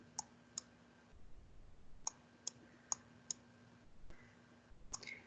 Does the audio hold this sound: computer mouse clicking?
yes